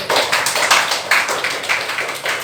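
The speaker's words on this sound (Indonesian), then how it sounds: "beri aplaus kepada kelompok 1" Students in a polytechnic classroom clapping for a group that has just presented, a short burst of fairly close, uneven clapping that stays loud throughout.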